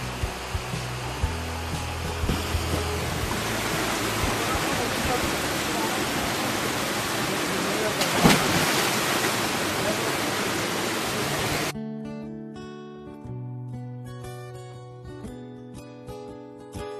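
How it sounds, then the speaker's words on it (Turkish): A large waterfall roars as a dense, steady rush of falling water heard close up near a cliff edge, then the roar cuts out abruptly and music with a few faint voices takes over. "Büyük bir şelale."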